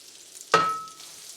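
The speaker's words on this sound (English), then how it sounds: "And now we're going to start putting our pieces of venison in." Venison pieces dropped into hot lard in a pan give a single sudden sizzle that flares up and fades over about a second.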